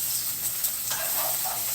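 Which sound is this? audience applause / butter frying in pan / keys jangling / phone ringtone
butter frying in pan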